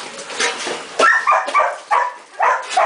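A farm dog barks in a quick run of sharp, close yaps and whiny barks, loud and excited, some blending into whimpers, with no talk over it.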